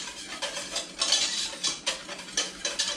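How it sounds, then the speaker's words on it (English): A spoon stirs white granulated sugar into a mixture in a bowl for kimchi until it dissolves, making repeated light clinks and scrapes in a steady rhythm, close and fairly quiet, with no talking. "Stir that around a little bit until your sugar dissolves."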